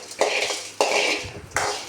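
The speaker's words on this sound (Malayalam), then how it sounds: "നന്നായി ഇളക്കി കൊടുക്കുക." A spoon scrapes around a pan, stirring a tempering of dried red chillies and urad dal for banana-flower thoran. Three distinct metallic strokes come at a steady pace over a faint sizzle.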